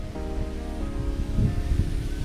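Small waterfall at a Bali hotel, a continuous close rushing splash of falling water with a faint tonal hum underneath, steady throughout.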